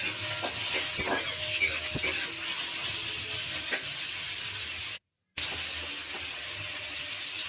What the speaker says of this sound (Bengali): আলুটাও আমি ভাজতে দিয়ে দিলাম শুকনো লঙ্কা ফোড়ন দিয়ে